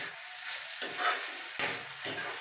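Bhindi in a pan is being stirred with amchur powder and a squeeze of lemon, producing a steady soft sizzle with scraping strokes and a couple of sharper spoon knocks, and no voice is heard.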